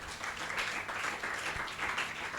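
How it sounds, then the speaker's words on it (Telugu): A church congregation at a Christmas worship service applauding together, steady far-off clapping of many hands that stays faint throughout. "చప్పట్లు కొట్టండి."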